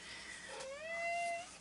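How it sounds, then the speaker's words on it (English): A house cat gives one drawn-out, rising meow, faint but fairly close, over a quiet indoor background. "And that is my cat."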